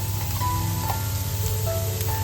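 Chillies and onion sizzle steadily in a pan as turmeric is stirred in for a village-style vegetable dish, a continuous close frying hiss with faint scraping.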